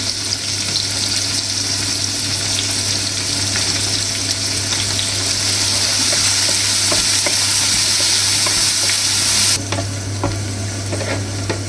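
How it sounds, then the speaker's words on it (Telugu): Onions fry in hot oil for a chicken fry, giving a steady, close, dense sizzle with light stirring throughout and no voices. "ఆనియన్స్ వేసుకున్న తర్వాత ఆనియన్స్ బ్రౌన్ కలర్ వచ్చే వరకు కూడా వేసుకోవాలి."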